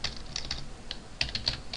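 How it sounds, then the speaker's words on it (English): Rapid typing on a computer keyboard during Java programming, a run of close, crisp key taps in uneven bursts with brief pauses between them. "Why am I not typing right today?"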